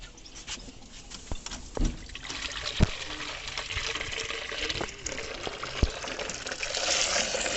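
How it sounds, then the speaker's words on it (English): Water trickles and splashes as it is poured into a jar for pigeons, a soft continuous liquid pour with a few small clinks and knocks against the container, fairly close, with no speech. "So now I will keep water in this jar"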